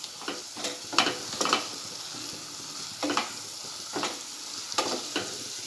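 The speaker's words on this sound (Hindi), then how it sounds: "ये देखिए, मसाला तेल छोड़ने लगा है।" Masala sizzles in hot oil in a pan while being stirred for mutton liver, with steady frying crackle and several sharp scraping stir strokes at irregular intervals.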